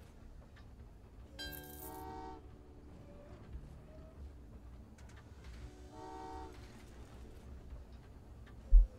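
Trains running in the puzzle game Train Valley 2, on a penguin island level: two faint horn-like tonal blasts sound a few seconds apart over a quiet rumbling bed, ending with a short sharp click.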